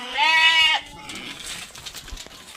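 Sheep and lambs bleat at a livestock sale, one loud drawn-out bleat up close followed by quieter farmyard clatter and faint animal noise.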